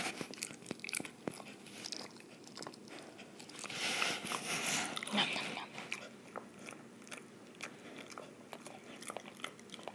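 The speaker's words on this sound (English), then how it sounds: "I better leave him alone now so he can chew on that in peace." Pet dog chewing on something nearby, with irregular crunchy bites and gnawing clicks, growing louder and busier in the middle before easing off.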